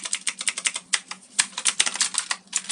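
Quick, crisp clicks of a STOGA anti-ghosting mechanical computer keyboard being typed on, irregular bursts of keystrokes close to the microphone with brief pauses between words.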